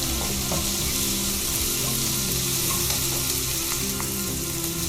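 Chopped tomato sautéing with masala in a pan for kadala chickpea curry, a loud, steady close sizzle with faint stirring scrapes throughout, no voices.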